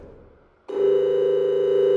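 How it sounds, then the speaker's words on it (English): A phone rings inside the horror video game Hotel Dream, its steady electronic tone starting abruptly after a quiet ambient passage and holding loud and continuous to the end, with no voices. "this ringing phone is driving me nuts!"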